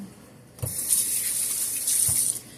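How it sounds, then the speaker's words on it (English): Running tap water splashes over hands in a sink with a steady hiss, briefly interrupted, while someone rinses butternut squash residue off after food prep. "I'm gonna rinse my hands off"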